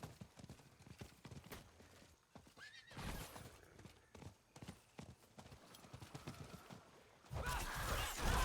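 A horse in the Diablo IV video game whinnies and its hooves clop steadily over several seconds, with a louder burst of galloping or rushing near the end.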